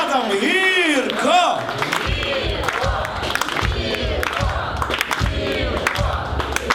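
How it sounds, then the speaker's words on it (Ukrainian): Wedding guests clap and cheer for the newlyweds, a lively crowd with whoops and loud shouting voices over steady applause throughout. "Ще! Ваші оплески!"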